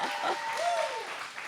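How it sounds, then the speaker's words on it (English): An audience at a live storytelling event applauds the speaker's mother, a short burst of steady clapping from a room crowd, moderately loud, with a faint voice rising briefly over it. "Give her a round of applause too."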